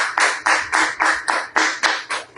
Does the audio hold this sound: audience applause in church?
yes